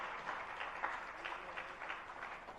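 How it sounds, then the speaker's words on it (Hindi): Listeners at a Hindu-Jain religious lecture clap together in a modest burst of applause, a steady patter of many hands, fairly soft and distant, with no talking over it. "बजाना हो तो तालियां बजा लो"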